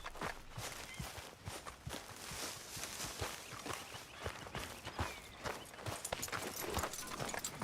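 Horse hooves clip-clopping at a walk in Red Dead Redemption 2, a steady, soft rhythm of individual steps over quiet background, with no talk.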